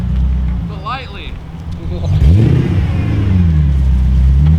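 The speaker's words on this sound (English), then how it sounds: "Been revving it forever." BMW 6 Series engine revving while warming up before a drag race, with a low idle rising into a rev near the middle and holding there, under voices talking.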